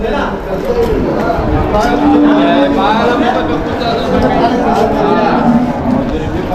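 Holstein Friesian cows mooing at the Vaniyambadi cattle market, low calls rising over a busy crowd and steady chatter, with someone talking close by throughout.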